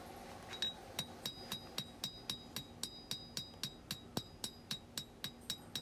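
Hammer blows ring out on hot steel while a through-tang knife is hand forged, a steady even rhythm of about two sharp metallic strikes per second with bright ringing overtones, close and clear.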